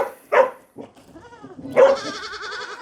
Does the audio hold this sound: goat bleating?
yes